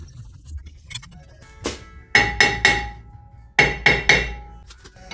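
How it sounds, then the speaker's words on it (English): A hammer taps a brake rotor on a 2009-2015 Honda Pilot, two close groups of three sharp, ringing metallic knocks with lighter handling clinks between them and no talking. "Give them a little tap just to make sure the rotor's seated really nice"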